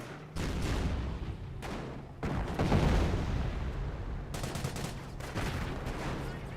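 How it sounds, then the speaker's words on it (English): Mortar and artillery fire in the Company of Heroes battle game, incendiary mortar shelling a trench, with booming blasts and rattling gunfire in dense, continuous bursts that drop out briefly between volleys, loud and close. "Oh, incendiary mortar there, making that trench extra warm."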